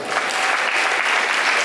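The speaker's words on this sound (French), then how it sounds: "On applaudit l'église ce matin." A church congregation at a Sunday morning service bursts into loud, dense applause, a continuous roar of clapping filling the room for a brief moment.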